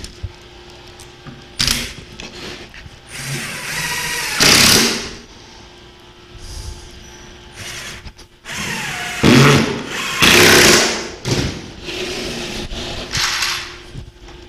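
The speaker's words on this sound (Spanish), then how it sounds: "Y ponemos los tornillos." Power screwdriver driving screws into a nightstand drawer unit during furniture assembly, several short whirring bursts separated by pauses, with handling knocks and clatter in between.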